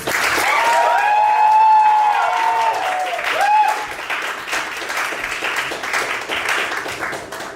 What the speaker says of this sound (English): Please give a round of applause for Maggie.